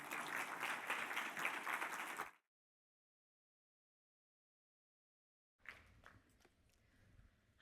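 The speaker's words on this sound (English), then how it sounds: "So please give her a nice round of applause." Audience applause at a media industry talk, a dense burst of clapping for about two seconds that cuts to silence, then returns faintly with scattered claps and room noise.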